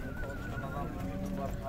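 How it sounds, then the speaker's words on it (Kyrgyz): A horse neighs at a horse market, its whinny rising over steady market bustle, with hoof clip-clop and people talking nearby. "Ушул аттагы жакшы ат көрүнүп жатат"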